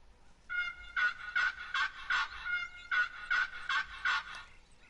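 A wild turkey gobbles in a hunting video game, repeated rapid gobbling bursts in quick succession, fairly close and clear with no talking.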